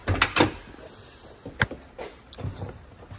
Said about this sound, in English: Let me open the door here.